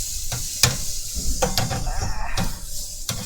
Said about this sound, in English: I'm just going to take my steak with spatula underneath it, flip it,